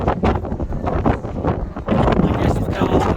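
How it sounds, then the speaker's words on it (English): Strong wind buffets a phone microphone on the open upper deck of the Disney Magic cruise ship near the sports courts, a loud continuous low roar with gusty surges throughout. "Wow, this is very windy."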